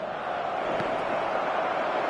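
A packed stadium crowd roars on match day in a football video game, a steady, even wash of cheering noise held throughout with no distinct breaks.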